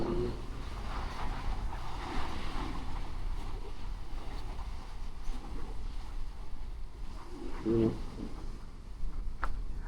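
Rough sea waves wash along the coast at Lobo, Batangas, a low continuous rumble mixed with wind buffeting the microphone, and a faint voice briefly surfaces in the background.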